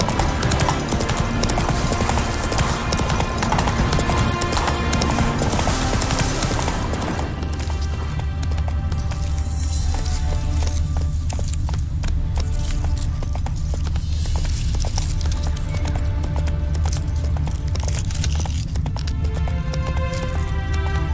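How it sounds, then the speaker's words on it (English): A heavily laden horse's hooves clip-clop in a rapid, steady rhythm throughout, layered over a continuous musical Witcher 3 game soundtrack with no pause. "Heavily laden horse."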